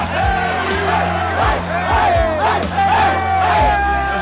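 Crowd at a high school basketball game between Lansing and Highland Park, loud sustained cheering and whooping with repeated bursts of shouts and sneaker squeaks in a gym.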